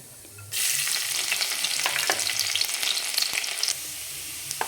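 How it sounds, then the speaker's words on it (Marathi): Cumin seeds dropped into hot oil for a methi egg rice dish burst into a loud, close, continuous sizzle that starts abruptly and holds steady for a few seconds before easing off. "आपण आता जिरे टाकून घेणार आहे जिरे छान एकदम फुलू द्यायचे"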